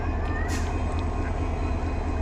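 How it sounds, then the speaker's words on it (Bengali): A train runs through a station toward Dhaka without stopping, a dense continuous rumble with a short hiss near the start and no voices. "একটা ট্রেন ঢাকার উদ্দেশ্যে চলে গেছে"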